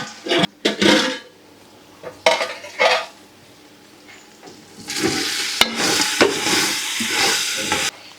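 Vegetables for vegetable biryani stirred in a metal pot, with bursts of loud spoon scraping and clanking against the pot over a low sizzle, intermittent at first, then a continuous stretch of stirring.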